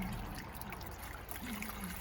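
River water is poured into a gold prospecting pan, making a soft, steady trickle and splash that lasts about two seconds and sounds close but faint.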